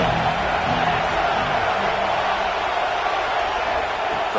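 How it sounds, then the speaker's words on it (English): A stadium crowd at a football game cheers and roars in a dense, unbroken wall of noise that holds at the same loud level throughout. "Third down and the crowd really getting into it."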